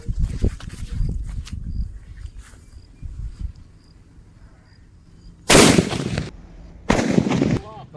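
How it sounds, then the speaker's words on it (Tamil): A large Dinosaur Deluxe atom bomb firecracker from Sivakasi goes off in two loud, sharp blasts a second or so apart, following several seconds of faint outdoor background with quieter thuds. "இந்த டைனோசர் டீலக்ஸ்ன்னு சொல்லிட்டு பார்த்தீங்கன்னா இருக்கிறதுலே பெரிய சைஸ் அணுகுண்டு இருக்கு"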